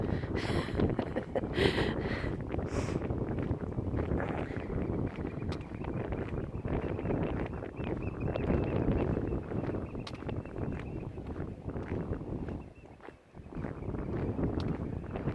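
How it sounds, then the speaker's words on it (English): Wind gusts buffet a sponge-covered phone microphone on a coastal outcrop at Morecambe Bay in a steady, rumbling roar, with rough low bursts rising and falling throughout. "Oh, it's windy on this outcrop."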